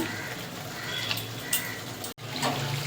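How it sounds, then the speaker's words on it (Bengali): Water from a rinsed spice bowl poured into a cooking pan of pabda fish curry, a soft hissing splash and sizzle over low kitchen noise, cut by a brief dropout before it resumes. "এই মশলার বাটিটা ধুয়ে একটু জল দিয়ে দেবো।"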